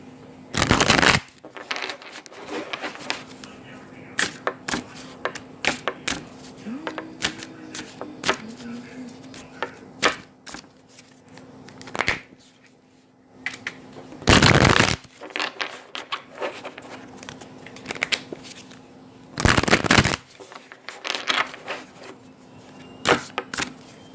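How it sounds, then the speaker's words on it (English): Tarot cards are shuffled in repeated bursts of riffling and sliding, near and clear, with short pauses between rounds. "I want you to think about that as I shuffle the cards"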